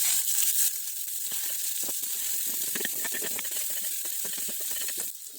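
Chopped onions sizzle and hiss steadily in a pan of frying green chillies for tomato rice, with a spatula scraping and stirring through the mix, close and continuous.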